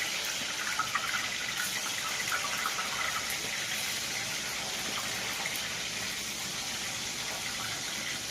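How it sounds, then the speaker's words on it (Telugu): Salt-stuffed brinjals fry in oil in a small pan with a steady, even sizzle and crackle that holds at a moderate level throughout, close by with no talking. "మనం స్టఫ్ చేసుకున్న సాల్ట్ స్టఫింగ్ చేసుకున్న వంకాయని ఇలా నూనెలో వేసి వేయించుకోవాలి."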